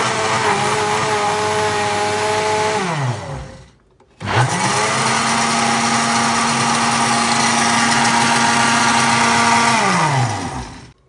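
An electric mixer beating cake batter whirs loudly and steadily, spins down to a stop, then starts again and runs at a constant pitch before winding down.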